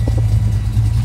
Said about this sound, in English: we've had the engine running here for about a good minute and a half, 2 minutes or so